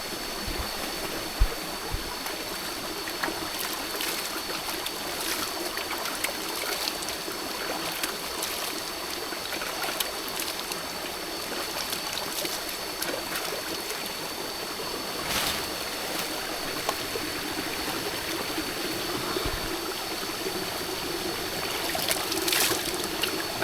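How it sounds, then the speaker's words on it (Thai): A small stream of water flows steadily along a farm path, with a continuous close trickling and gurgling rush and no voices. "ก็จะมีน้ำไหลนะครับ"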